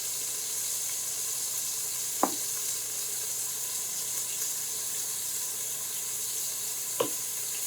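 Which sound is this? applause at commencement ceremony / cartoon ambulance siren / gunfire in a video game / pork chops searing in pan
pork chops searing in pan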